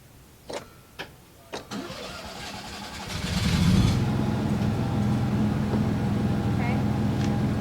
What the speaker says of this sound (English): Should I turn the generator on?